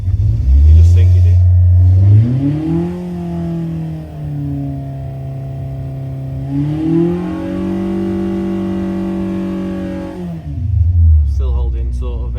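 Engine of a 1040 on a dyno, revving with a steady loud drone that climbs in pitch, holds, rises again, then drops back as the load comes off, heard close up with a voice talking over it.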